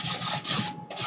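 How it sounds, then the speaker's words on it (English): Sandpaper rubbed briskly along the edges of a wooden sign, three or four close, raspy strokes with a short pause between, loud and near. "really just sand, like I'm really taking it on the edge there and sanding it"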